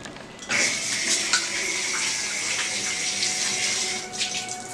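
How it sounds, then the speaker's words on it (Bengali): Tap water runs steadily and close by as hands are washed under it, a continuous bright splashing hiss that starts abruptly after a brief quiet moment and carries on with small surges. "এবার হাতটা ধুয়ে নিই আর একটু ভালো করে।"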